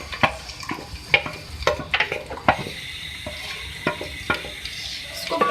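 Two tablespoons of chopped garlic fry in oil while being stirred, giving an uneven sizzle broken by repeated clattering spatula strokes at close range.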